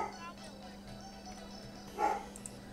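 A dog barks excitedly in the background of a house, with one louder bark-like burst near the end over a steady low hum and faint voice.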